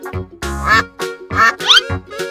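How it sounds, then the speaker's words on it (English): A cartoon duck quacks in a run of four or five loud, nasal quacks at uneven intervals, close and clear, with no other sound. "Duck."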